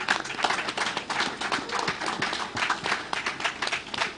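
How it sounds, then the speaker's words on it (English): Audience applause at a live-streamed downstream industry dialogue session, a dense steady patter of many hands clapping for about four seconds with no pauses, moderately loud and fairly close. "So if you're clapping for yourself, you may want to clap better."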